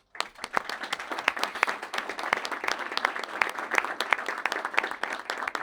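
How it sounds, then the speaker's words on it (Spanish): Steady audience applause for a speaker at a business talk, dense clapping from a crowd of many hands with sharp individual claps standing out, fairly close and continuous throughout. "Le pido un aplauso para Marcelo."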